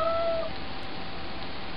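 A person imitates a cat's meow in one brief, tonal call at the very start, followed by a soft background hiss.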